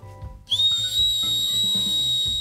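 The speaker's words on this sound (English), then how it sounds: "you can blow a whistle a lot longer than you can yell for help" A Leatherman Signal survival multitool's built-in safety whistle blown in one long, loud, steady shrill blast after a brief stretch of low background noise.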